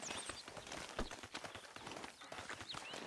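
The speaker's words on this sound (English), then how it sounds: "But I do kind of like this horse." Horse hooves clip-clopping in Red Dead Redemption 2, a steady run of close, quiet hoofbeats with faint breathing sounds.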